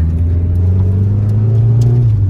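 A Honda Civic EG's engine drones steadily from inside the car while driving, a low even hum with a slight pitch rise as it pulls, no voices.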